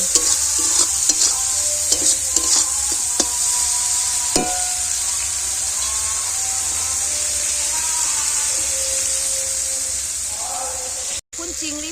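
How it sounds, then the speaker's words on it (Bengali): Turmeric and chili powder being stirred in a frying pan, a steady loud sizzle with scraping strokes of the spoon, continuous and close. "একটু হলুদের গুঁড়ো দিয়ে দেবো অল্প করে গুঁড়ো লঙ্কা দিয়ে দেবো দিয়ে ভালো করে নেড়ে নেবো"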